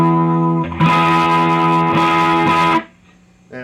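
A distorted chord from a Yamaha semi-hollow-body electric guitar on the lead pickup, with no reverb or echo, rings out loudly, sustained for about two seconds, then cuts off, followed by a brief quieter strum.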